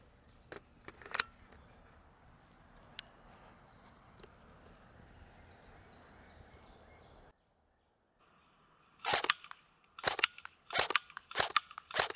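An ICS Hera Arms CQR airsoft rifle fires .25 BBs at a target: a few faint early clicks, a quiet gap, then five sharp, close shots spaced about a second apart.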